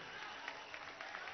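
Crowd applause at a political rally of socialist missions marching in Venezuela in 2016: a steady, dense wash of clapping, distant and fairly faint, with no distinct voices over it.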